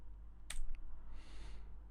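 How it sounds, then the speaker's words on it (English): Hobnailed military boots thud and scrape as footsteps on an upper floor, one sharp crunchy step followed by a fainter one, then a longer soft shuffling scrape, all quiet and slightly distant. "That's the sound of footsteps made with hobnailed military boots."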